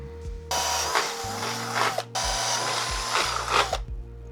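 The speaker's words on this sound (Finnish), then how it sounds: "pieni poraussessio." A power drill bores holes for a mount on a Baotian scooter, with two long high-speed whines of several seconds each, a brief pause between them and motor pitch shifts as the bit bites, close and loud.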